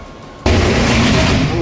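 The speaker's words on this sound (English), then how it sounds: "It's incredible how such a small, nondescript box can cause such a massive explosion." An electrical explosion from a failed circuit box hits as a sudden loud, sharp boom, followed by a sustained, roaring blast that stays loud to the end.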